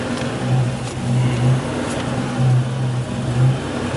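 Buick Grand National engine blipped repeatedly as the throttle is snapped, a steady mid-range drone swelling in four or five short rev bursts, close and moderately loud with no talk.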